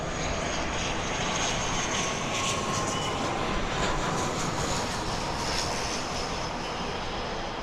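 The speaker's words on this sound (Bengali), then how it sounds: "নভো এয়ারের বিমান এগিয়ে আসছে" A Novo Air airplane moves toward the runway after touching down. Its engines give a loud, steady roar that runs through the whole clip without talk.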